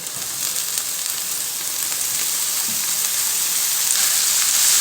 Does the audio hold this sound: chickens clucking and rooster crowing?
no